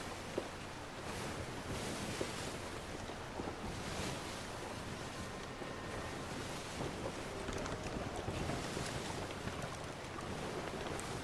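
A sailing ship on open ocean in the pirate game Sea of Thieves, with a steady wash of waves and wind rushing around the hull, continuous and moderately quiet with no talk.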